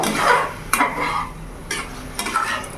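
Curd being stirred into a pointed gourd curry in a pan, a spoon scraping and clinking in a few distinct strokes over a soft, close sizzle, with no talking.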